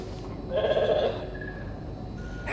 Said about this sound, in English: Never thought I'd be so glad to see a sheep.